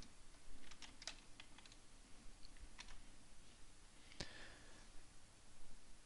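Someone types on a computer keyboard in quick, scattered clicks, with one louder tap near the end, sounding close and quiet against a soft hiss and with no talking.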